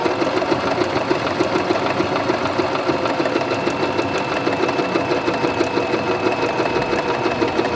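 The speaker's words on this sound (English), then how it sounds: "let's try out our zigzag" A budget beginner sewing machine runs a zigzag stitch, its needle mechanism chattering in a steady rapid rhythm. The motor hum stays close and constant, with no talking.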